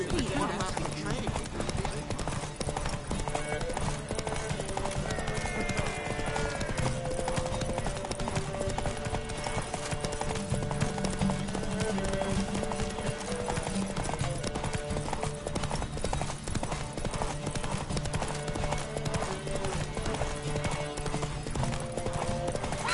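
Hooves of the horse Roach clip-clop at a steady gallop through a PS5 video game race, with occasional whinnies, under continuous music and spoken voices throughout.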